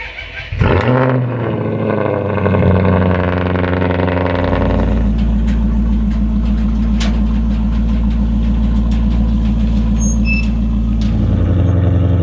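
A hail-damaged Maserati's engine cranks briefly, catches and roars to life, then settles into a loud, steady rumbling idle close by.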